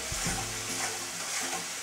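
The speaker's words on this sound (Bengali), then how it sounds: "এবার টমেটো পিউরিটা একটু ভাজা ভাজা করে এর মধ্যে ব্ল্যাক সস মানে সয়া সস দিতে হবে" Tomato puree with soy sauce frying in a pan for a restaurant-style veg Manchurian, an even broadband sizzle with low clinks of stirring near the start, heard alone without talk.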